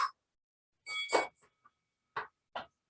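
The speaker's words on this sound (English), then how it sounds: "You heard the bell." A workout timer bell dings in a few short, bright strikes, spaced unevenly across a couple of seconds, clear and alone in otherwise quiet surroundings.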